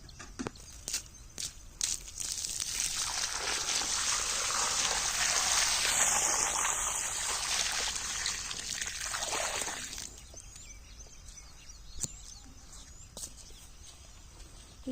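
Water is poured onto the soil around a freshly planted multicolour rose, a steady trickling splash lasting several seconds before fading into quiet outdoor background with a few faint clicks.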